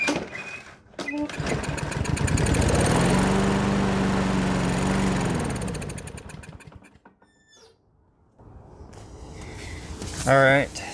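A Briggs and Stratton lawn mower engine with a dirty carburetor cranks and sputters loudly for several seconds, trying to fire without catching, then fades out before a short burst of sound near the end, with voices present.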